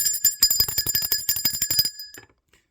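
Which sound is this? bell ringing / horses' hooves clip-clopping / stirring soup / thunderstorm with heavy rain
bell ringing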